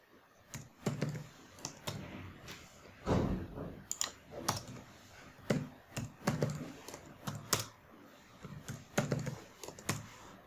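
Keys clacking on a computer keyboard while text is entered in a word processor: irregular bursts of close, crisp keystrokes with short pauses between words, no voices.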